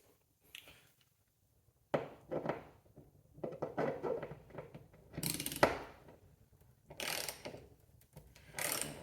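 A 1/2 inch drive ratchet tightening a bolt on a garage shelf install, giving bursts of close, dry clicking pawl ratchets in several separate runs with brief pauses between.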